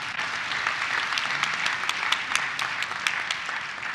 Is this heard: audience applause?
yes